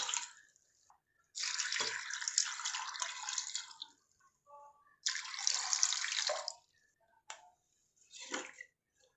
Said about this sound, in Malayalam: ഇപ്പം മുങ്ങണ വരയ്ക്കുള്ള വെള്ളം ഒഴിച്ചു